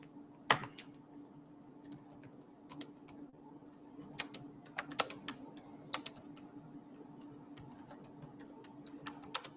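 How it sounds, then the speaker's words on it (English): Typing on a computer keyboard, with a scatter of sharp, irregular keystrokes close by, some isolated clicks and some quick bursts, over a quiet room hum and with no talking. "Let me just type it in just to be sure."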